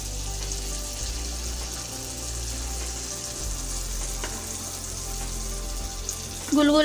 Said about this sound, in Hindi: गुलगुलों के चारों तरफ बबल्स आ रहे हैं। हमारा तेल बिल्कुल सही गर्म है।